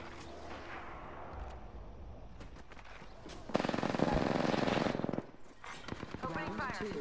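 Automatic weapon fire in the battle royale game Apex Legends, a loud sustained burst of rapid shots lasting over a second amid other game effects and scattered shots before and after.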